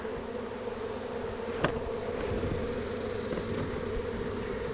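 Honey bees from a struggling beehive make a faint, steady buzzing drone outdoors, with a brief click partway through.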